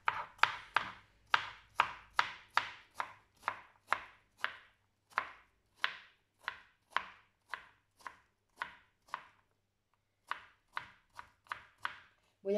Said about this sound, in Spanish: a cortarlo a trozos más chiquititos para que a la hora de freír se fría bien